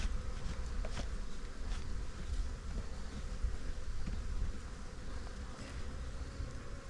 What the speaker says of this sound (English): And that's a lot of bees.